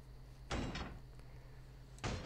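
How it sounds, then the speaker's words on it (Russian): Two heavy thuds as a door is struck and forced in the Horrorfield horror video game, short impacts separated by a pause, over a low steady background hum. "Ладно, выломаем дверь."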